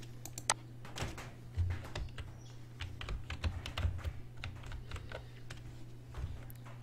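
A name is typed on a computer keyboard, heard as a quiet, irregular run of light key clicks against faint background hum.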